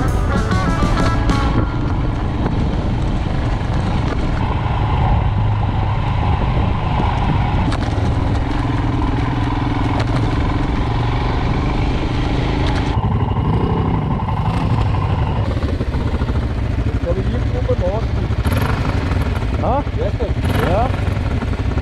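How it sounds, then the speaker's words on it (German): A Royal Enfield Himalayan motorcycle on a road tour in Croatia runs with a loud, steady engine drone and heavy wind rush, sounding louder than normal, with slight shifts in engine pitch along the ride. "Motorrad klingt plötzlich etwas lauter als zuvor."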